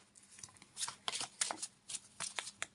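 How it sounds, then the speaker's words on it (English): A deck of cards is shuffled over and over for tarot-style reading, the riffles coming as quick papery bursts in an uneven rhythm, close and fairly quiet. "So as I'm shuffling"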